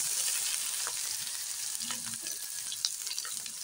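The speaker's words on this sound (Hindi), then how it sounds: "अब हम इसमें लहसुन अदरक का पेस्ट डालेंगे।" Garlic ginger paste sizzles in hot oil with fried chicken, a loud steady crackling fry close by, with small pops and faint stirring scrapes throughout.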